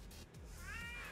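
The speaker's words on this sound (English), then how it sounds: "Hey kitty. Meow." A house cat gives a single short, rising meow close by indoors, heard on its own over a low background hum.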